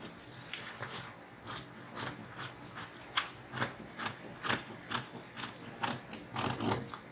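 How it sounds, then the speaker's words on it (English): Scissors snip and slide through fabric at close range while darts are cut out for a blouse, producing a series of rhythmic, crisp cuts with soft rubbing of cloth between them. "So now after cutting it out now, I'm going to cut out my"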